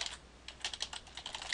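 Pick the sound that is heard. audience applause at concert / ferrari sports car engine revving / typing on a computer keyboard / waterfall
typing on a computer keyboard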